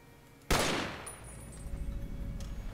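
A single burst from a modded gun in Fallout New Vegas, a sharp loud blast that decays into a ringing tail, followed by quieter rumbling ambience.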